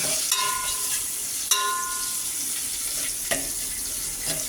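Sliced onions sauté in hot oil in a pan for sambar, giving off a steady, close hiss of sizzling with a few light metallic clinks from the spoon and no talking.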